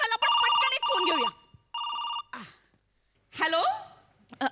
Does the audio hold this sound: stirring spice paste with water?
no